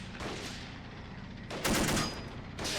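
In the Army Men video game, a few loud gunshot bursts ring out, close, against a steady background of battle noise.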